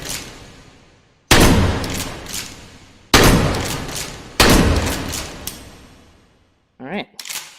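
A shotgun fired in the VR shooter Hot Dogs, Horseshoes, and Hand Grenades: three loud, sharp blasts spaced a second or two apart, each with a ringing decaying tail, then brief mechanical clacks near the end.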